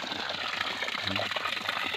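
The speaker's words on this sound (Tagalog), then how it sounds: "ayan ayan ang tubig sa sapa guys" Creek water flowing steadily in a rural farm setting, a continuous broadband rush close to the microphone with a brief low rumble partway through.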